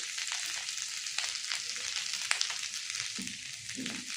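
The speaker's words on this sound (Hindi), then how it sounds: "प्याज भी कट कर लिया था, उसी में आलू भी, सबको तेल में हमने डाल दिया कढ़ाई में। इसको हम बराबर से चलाते रहेंगे।" Chopped onion, potato and okra sizzling in hot oil in a kadhai, a steady close frying hiss throughout with occasional soft stirring scrapes and pops, no voices.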